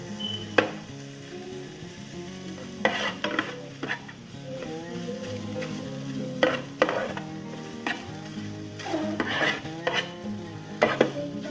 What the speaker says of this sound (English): I'm going to sear this a little with no oil